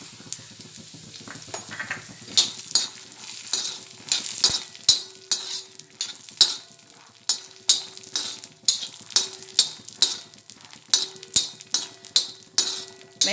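Peanuts frying in hot oil on a tawa over low gas heat, a constant crackling sizzle punctuated by rhythmic metallic scrapes and clinks of a spatula stirring, repeating every half second or so.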